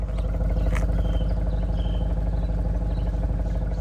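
A 2024 Audi RS6 Avant's V8 engine idles with a steady, low rumble and an even pulsing throb through real exhausts, close by and unbroken, with no voices.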